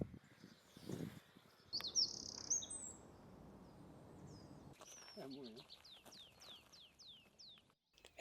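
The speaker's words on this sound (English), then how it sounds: "At this time it was still dawn, but we could add many singing species to the list." Several songbirds sing at dawn in a Dutch wetland bog, with bright chirps, whistles and repeated descending trills, some near and some more distant, between quiet stretches and a few low rustles.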